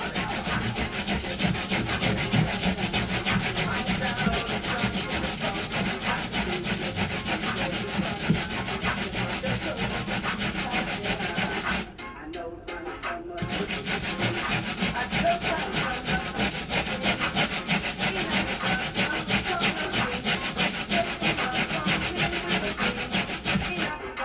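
A sweet potato is rubbed against a grater for pudding, making a continuous rasping scrape in quick, even strokes, close up, with a brief pause midway before the grating resumes steadily.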